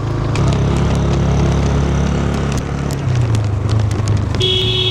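A motorbike climbs a rainy mountain road between Alikadam and Thanchi in Bandarban, its engine droning loud and close without a break, with a brief high tone near the end.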